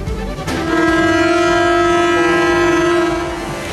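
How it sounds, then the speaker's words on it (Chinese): Vehicle and train horns blare in a sustained, loud, steady chord across most of the stretch, sounded for three minutes of mourning in Hong Kong after the 2008 Sichuan earthquake, with no speech. "本港很多交通工具鸣笛响号三分钟致哀"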